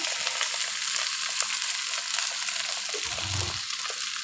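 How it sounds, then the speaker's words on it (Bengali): Spice-coated pasta noodles hit a hot pan and fry with a continuous crackling sizzle, moderately close, with a low thump of stirring near the end. "এখন আমি এখানে মশলা মাখানো পাস্তা নুডলসটা ঢেলে দিচ্ছি"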